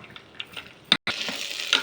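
A spoon stirs cooked dal with fenugreek in a pot, giving soft scraping and wet sloshing strokes with a faint sizzle, close and moderately loud with a brief sharp clatter near the middle.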